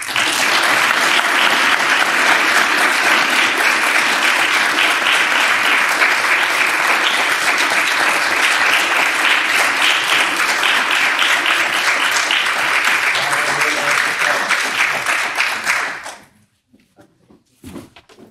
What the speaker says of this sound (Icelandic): Bara gefum þeim gott klapp